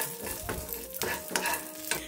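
Spices being stirred in a hot pan: black pepper, a pinch of asafoetida, a little tamarind and coconut, scraped around with soft rhythmic stirring strokes and a low sizzle, close up with no talking.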